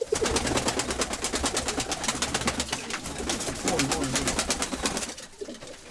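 A pigeon coos softly and repeatedly close by, low murmuring calls under people talking, with a steady rapid mechanical ticking running throughout.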